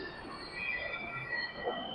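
A train arriving at a station, with steady wheel squeal and a continuous rail rumble held at moderate distance for the whole stretch, and no talking.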